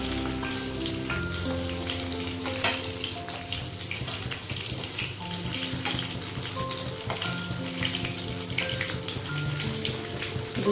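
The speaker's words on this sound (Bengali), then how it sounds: "ভেজে নিতে হবে।" Food sizzles and spatters steadily in hot oil in a pan while a Bengali vegetarian dish fries, a dense crackling hiss with occasional sharper pops and clinks of utensils, no talk.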